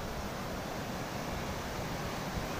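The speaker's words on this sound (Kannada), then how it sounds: "ಇವಾಗ ಅಲೆ ಬಂತು ಅಂದ್ರೆ" Sea waves wash onto Murudeshwar beach in a continuous, even roar of surf mixed with wind rushing across the microphone, with no voices.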